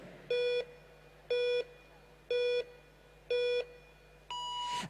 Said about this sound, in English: It beeps at 10, and then 5 more beeps, 5 down to 0.